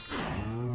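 A Minecraft cow gives a game-style moo with harmonic tones, loud and close, lasting under a second with no talk over it.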